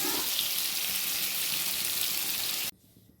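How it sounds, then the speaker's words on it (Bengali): Brinjal (eggplant) slices frying in oil in a kadai give a steady, loud crackling sizzle with no talk, cutting off abruptly near the end to faint room quiet. "বেগুনগুলোকে ভালোভাবে ভেজে নেবো"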